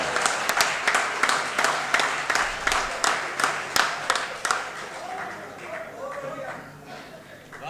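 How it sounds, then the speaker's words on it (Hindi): An audience at a Haryanvi comedy poetry show claps in a loud, even rhythmic beat for several seconds, then the clapping fades as a voice takes over. "एक बार खुल के तालियां बजा दो जरा जोरदार"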